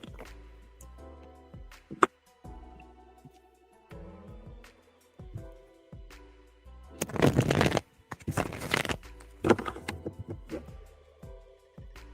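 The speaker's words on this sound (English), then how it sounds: "I'm going to go ahead and start shuffling for you" Tarot cards are handled and shuffled in a quiet room, soft taps and slides building to two loud riffling bursts midway, then lighter shuffling continues, with no talk.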